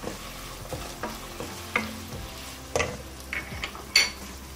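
Garlic hits hot oil in a pan of browned meat for Hünkar Beğendi, giving a close, steady sizzle broken by several sharp spoon-on-pan clacks as it is stirred, with the loudest knock near the end.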